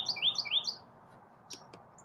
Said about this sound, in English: your bird chirps blended in so well with mine.